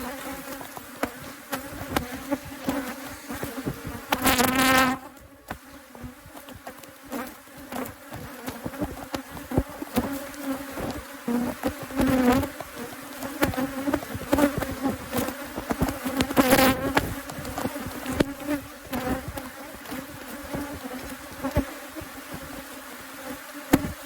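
Honey bees from a large hive buzz steadily throughout while the colony is split after the canola bloom, with louder swells as swarms of bees pass close by.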